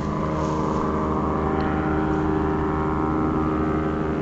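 An airplane engine in a VR flight game holds a loud, steady drone at full throttle with a propeller-like buzz, unbroken and close throughout.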